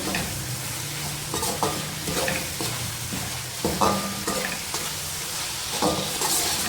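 Chili sauce and soy sauce mixture sizzling in a frying pan as it is stirred, with a continuous close hiss and periodic scraping knocks of the utensil against the pan.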